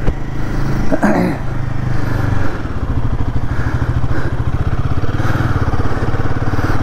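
Royal Enfield Himalayan 450 motorcycle riding on a weekend ride, its engine thrumming steadily close up with a brief clattering bump early on, continuous and loud with no talking.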